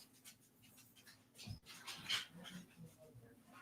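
A dog whimpers and yips faintly while someone wrestles with it indoors, with scuffling and brief soft thumps among the quiet whines.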